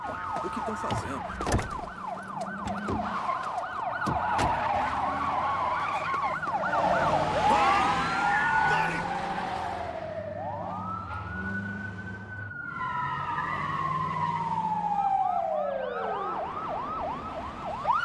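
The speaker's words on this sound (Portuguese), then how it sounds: "estou ouvindo as sirenes" Wailing police sirens in an action film rise and fall repeatedly, several overlapping, with traffic rumble underneath; loud and close, sweeping up and down throughout.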